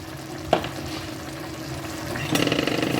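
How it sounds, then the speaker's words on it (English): A lidded pot of beef ribs, yellow rice or string beans simmers on a stovetop, giving a steady soft bubbling hiss with a brief clink near the start and a louder burst of sizzle toward the end. "I'm going to put my lid on there and just let that simmer down"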